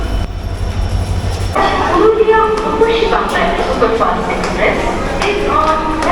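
A local train rumbles and clatters at a Kolkata-area station platform, with people talking over the steady noise.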